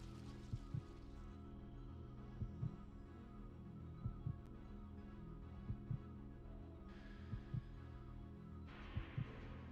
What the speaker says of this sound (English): Such heartbeat.